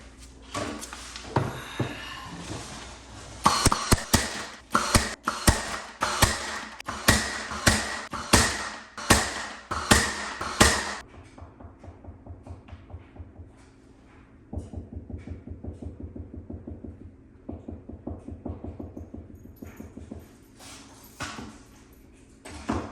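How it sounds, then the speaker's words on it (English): Knuckles rap on a wall to locate a stud while baseboards are being installed; dense runs of sharp, loud knocks come in quick bursts, then a pause and sparser, softer knocking follows, with no talking. "The knocking stud test."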